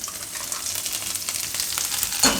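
Ground masala spices dropped into hot oil in a home kitchen, giving a steady close sizzle and crackle throughout, ending with a brief louder clatter.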